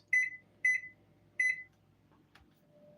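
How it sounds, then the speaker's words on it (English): Three short electronic beeps sound as a kitchen timer is set while muffins bake, evenly spaced and clear, followed by faint handling noise. "I gotta put timer on."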